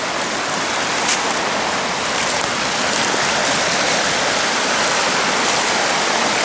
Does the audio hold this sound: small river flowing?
yes